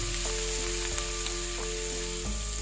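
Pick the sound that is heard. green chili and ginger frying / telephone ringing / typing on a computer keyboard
green chili and ginger frying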